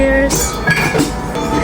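Glasses of white wine clink together in a toast at an Italian restaurant in Ginza, Tokyo, a bright brief ring over a busy room with voices around it.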